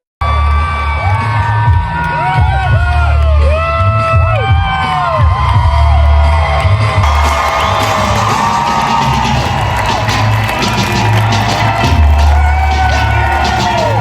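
Packed crowd at a Kamala Harris rally cheering and whooping loudly, a sustained roar with many high shouts rising above it, the noise swelling further midway through.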